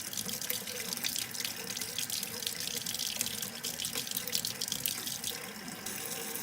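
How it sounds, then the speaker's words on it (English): Warm tap water runs steadily from a faucet into a plastic cup, a continuous close splashing stream with no breaks and no talking. "I'm going to put a little water in there."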